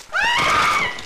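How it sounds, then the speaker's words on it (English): A single shrill scream rings out in the horror video game Cry of Fear, a drawn-out, wavering cry lasting about a second that comes through clearly, isolated from any talk. "every time I hear a scream, I have to like dodge"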